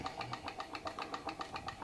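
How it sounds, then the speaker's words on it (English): Solar Stirling engine running under load, its flywheel turning with a quick, even chuffing pulse of about seven beats per second, close and moderately loud with no talking. "straight away you can hear that engine at work"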